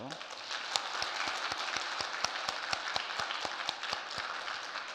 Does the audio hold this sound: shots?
no